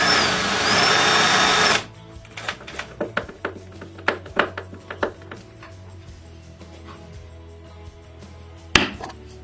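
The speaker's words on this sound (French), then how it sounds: "Je perce les trous pour les vis des pentures sur la porte," Power drill boring screw holes for hinges in a wooden cabinet door: a loud continuous whine for about two seconds, then a series of sharp knocks and clatters as the work is handled, with a low hum underneath.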